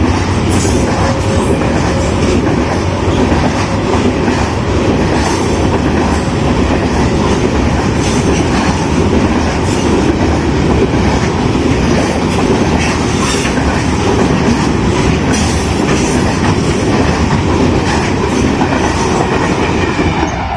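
A Millat Express train hauled by EMD locomotive 6009 rolls past with a steady, loud rumble and continuous clattering of wheels over rail joints, sustained throughout with no talking.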